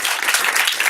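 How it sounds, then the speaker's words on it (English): Dense applause from an audience at a Harvard graduate master class fills the whole second, steady and fairly loud with no pauses. "we should give them a round of applause"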